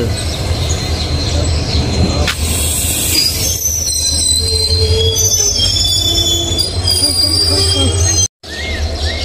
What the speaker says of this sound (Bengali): এটা হলো লোকাল ট্রেন, দেখুন আসামের লোকাল ট্রেন